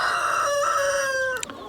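Rooster on a farm crowing once nearby, a loud drawn-out cock-a-doodle-doo that rises and holds before breaking off, ending with a faint cluck.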